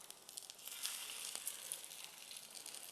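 Steady, close sizzling of food frying in a hot pan, a continuous crackly hiss with small pops and no voices.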